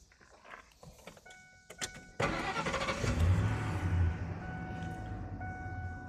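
A Ford F-150 engine with a newly tightened belt cranks over and fires up, then settles into a steady, close idle with a low rumble. Some faint clicks and rattles come before the start, and no one speaks.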